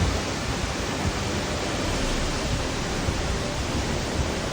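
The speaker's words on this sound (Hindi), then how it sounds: "और यहाँ पे 130 मीटर की ऊंचाई से जब ये पानी गिरता है यहाँ पर तो देखने लायक नज़ारा रहता है।" A waterfall plunging 130 metres beside the road to Tawang in Arunachal Pradesh roars as a dense, unbroken wash of rushing water, loud and steady throughout.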